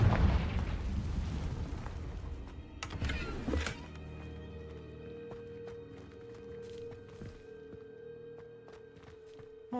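A Confringo blasting spell explodes in Hogwarts Legacy: a loud rumbling burst that roars for a few seconds, then cuts off abruptly, leaving quiet sustained ambient tones.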